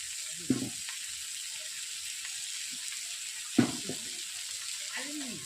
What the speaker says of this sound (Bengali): এরপর দিয়ে দিচ্ছি সরষে আর পোস্ত বাটার জল